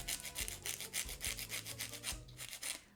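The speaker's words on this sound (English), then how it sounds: "I'm just gonna be taking my hand file and filing the sides." Hand file rasping along the sides of fingernails, close and quiet, with quick repeated back-and-forth strokes in a steady rhythm.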